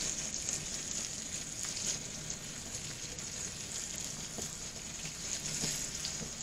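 Bluegill fillets fry in a pan in a steady, continuous sizzle and crackle of hot oil, close by and even in loudness throughout, with no talking.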